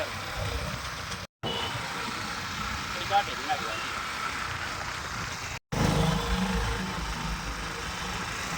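A vehicle engine idles and runs at moderate level beneath talking, a steady low rumble interrupted by two brief dropouts.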